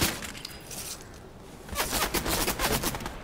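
Sporadic enemy shots in Fortnite give way to a denser, louder volley of rapid gunfire in the second half, with crisp cracking reports close by.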